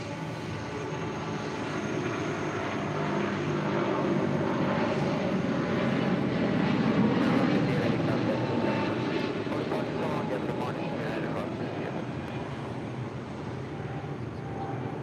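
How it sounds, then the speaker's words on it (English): Roar of a 28-year-old Boeing 777-200 airliner taking off at LAX, a broad steady engine rumble that swells and holds loud through the middle before easing slightly, with faint background chatter. "That is a 28-year-old Boeing 777-200."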